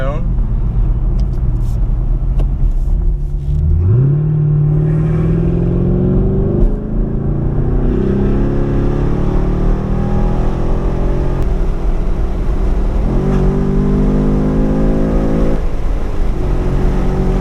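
A car engine revs and climbs through gears with the windows down, a rising drone that drops and builds again, loud and close, with voices talking over it.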